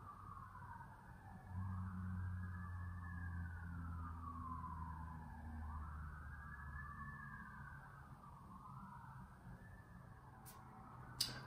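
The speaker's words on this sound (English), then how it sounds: "Don't mind the fire department sirens in the background." Fire department sirens wail in the distance, slow rising-and-falling sweeps that overlap and swell, with a low engine rumble joining midway, and a brief sharp knock near the end.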